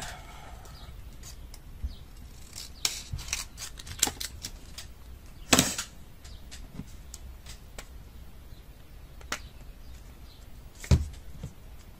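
Scissors snip through card paper while making a small handmade card, a few crisp close cuts scattered among quiet handling noises, with one louder snip around the middle.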